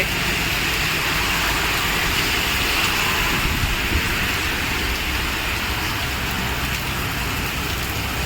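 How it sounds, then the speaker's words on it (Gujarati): Steady, heavy rain pours down without letup in Ahmedabad, a dense hiss of drops on surfaces with no voices. "હું જ્યાં જોબ કરું છું ત્યાં વરસાદ ચાલે છે"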